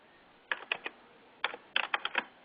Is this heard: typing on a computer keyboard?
yes